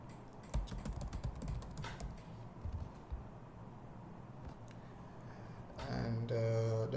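An email and password are typed on a computer keyboard with close, quick, irregular keystrokes. A low hum rises near the end.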